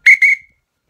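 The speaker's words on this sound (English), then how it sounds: "reviewing the NHL Fox 40 Force hockey referee whistle" Two quick, piercing Fox 40 Force hockey referee whistle blasts in rapid succession, loud and close, the second slightly longer.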